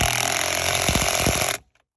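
An impact wrench or power tool rattles hard while a 21 socket tightens the steering wheel nut on a Silverado, buzzing steadily with a few stuttering hits near the end before cutting off abruptly.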